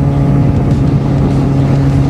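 A loud, steady Yamaha XJ6 motorcycle engine drone with a low hum and rushing wind noise, continuous throughout as if riding along at speed.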